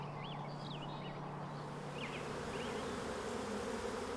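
Mason bees buzz steadily outdoors in a garden, a continuous low insect drone with a faint steady hum beneath, while distant birds chirp intermittently in the background.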